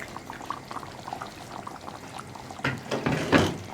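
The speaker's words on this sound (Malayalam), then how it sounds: "അപ്പോൾ നമ്മുടെ കറി ഒന്ന് തിളച്ച് ചിക്കനൊക്കെ കുക്കായി വന്നിട്ടുണ്ട്" Chicken kurma curry simmers in a pan, a steady close bubbling and sizzling with soft spoon clinks, then louder sloshing bursts near the end as cashew paste is added and stirred in.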